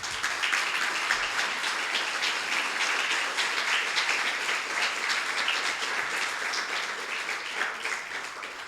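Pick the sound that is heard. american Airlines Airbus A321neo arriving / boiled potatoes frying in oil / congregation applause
congregation applause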